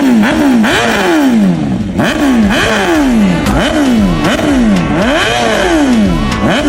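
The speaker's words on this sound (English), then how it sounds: "Which motorcycle exhaust would you use?" Motorcycle exhaust revving hard in a steady series of rising and falling engine sweeps, loud and close, with no talk.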